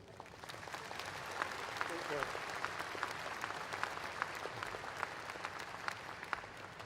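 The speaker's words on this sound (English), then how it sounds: "Let's give a final round of applause to all three award winners." A commencement crowd applauds award winners at a graduate school ceremony, a broad steady patter of clapping filling a large hall at moderate distance, continuous throughout.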